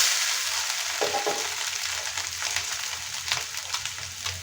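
Cumin seeds frying in hot oil, a steady close sizzle and crackle from a spoonful of seeds dropped into the pan, continuous with faint stirring, no voices.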